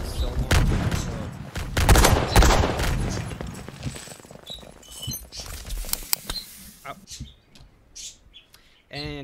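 Gunfire in the Pirates VS Ninjas video game: dense bursts of shots and sharp cracks, loud at first and thinning into scattered single reports, with bright chirpy game effects layered throughout.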